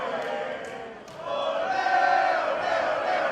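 Wrestling crowd at a PCW ULTRA show roars and chants loudly and continuously, swelling after the first second into a sustained mass of cheering voices.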